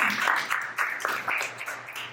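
A comedy club audience claps for a woman stand-up comic after she announces she turned 50, a short burst of mid-level applause mixed with a few whoops that fades out over a couple of seconds.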